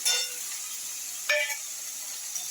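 Spice paste sizzles steadily in a hot pan while being cooked down for a Bengali banana flower ghonto, with a continuous close hiss and a brief flare of sharper sizzle partway through.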